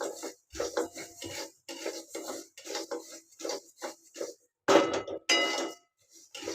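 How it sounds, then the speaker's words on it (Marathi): Coriander and fennel seeds dry roasting in a pan, heard as repeated close rasping scrapes and rattles of a spatula stirring the seeds, in short bursts separated by brief pauses. "ही धणे आणि बडीशेप ना हलकं हलकं गरम करून घ्यायचं आहे."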